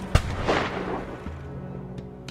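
A single sharp rifle gunshot in a historical documentary about Melilla and the Rif war, a loud close crack with a rolling echo fading across the mountains, then quiet.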